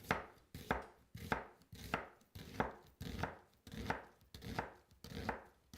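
A knife slices lengthwise through a bulb vegetable on a cutting board, about eight crisp, evenly paced chops up close with no talking.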